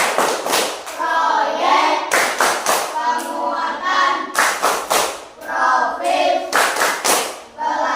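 Primary school classroom of children clapping a rhythmic P5 clap chant, loud sharp hand claps in quick patterned bursts with a teacher's voice and chanting voices mixed in throughout.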